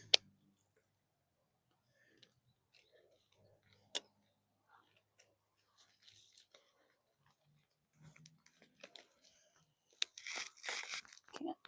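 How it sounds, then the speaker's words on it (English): Roots being cut and torn out of a raised garden bed, heard as sparse close snips, clicks and crunchy tearing, ending in a denser burst of ripping and rustling. "Let me see if I can cut some of these roots down"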